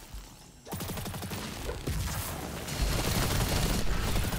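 Turret gunfire from the Destiny 2 video game rattles in a rapid, continuous stream of shots that grows louder after a brief quieter start, with dense mechanical clatter underneath.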